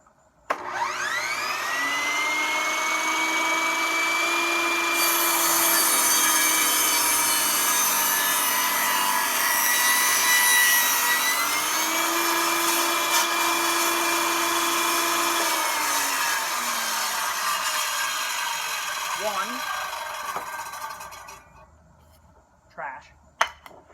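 A table saw spins up with a rising whine and cuts through wood, giving a loud, close, sustained grinding tone that dips as the blade bites and then winds down, with a couple of knocks at the end.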